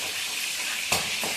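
Lolga fish frying in hot oil, a steady broadband sizzle throughout with a brief louder crackle-spit near the end, close by and alone.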